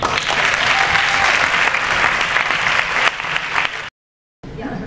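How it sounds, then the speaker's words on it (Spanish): An audience at a school graduation ceremony bursts into loud, sustained applause, many hands clapping together for several seconds before it cuts off abruptly. "recibamos con un fuerte aplauso a Emi Tábala."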